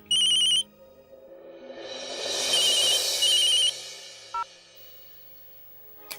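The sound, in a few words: telephone ringing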